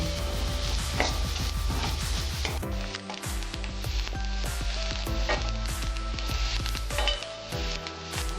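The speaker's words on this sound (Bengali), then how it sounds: "নারকেলটা ভাজা হয়েছে" Grated coconut frying in a pan at home for Bengali mochar chop, a steady close sizzle with repeated stirring and scraping clicks against the pan.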